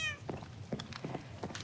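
Black cat meowing in the Minecraft video game, several short meows in quick succession over a quiet background, close and moderately loud.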